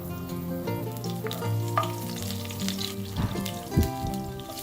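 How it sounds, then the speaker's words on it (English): Green chillies crackle and sizzle in hot oil in a frying pan, with sharp spattering pops over a low background hum. "Now adding the green chillies into the oil."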